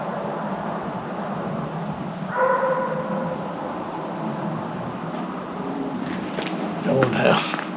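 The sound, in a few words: coon hunting dog barking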